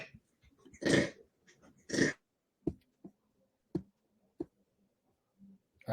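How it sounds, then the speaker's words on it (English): A dog gives several short, sharp barks and snorts at close range, widely spaced and separated by quiet breathing, with no talk over them. "My dog started barking."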